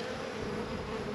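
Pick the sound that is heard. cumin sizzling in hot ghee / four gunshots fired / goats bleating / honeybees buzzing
honeybees buzzing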